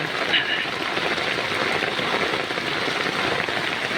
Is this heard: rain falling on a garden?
yes